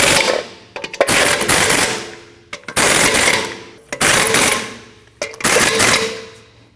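A power impact tool fastens the lug nuts on a 2012-2021 Nissan NV2500 5.6L V8 wheel in a crisscross pattern: four loud, rattling hammering bursts of about a second each, separated by brief pauses.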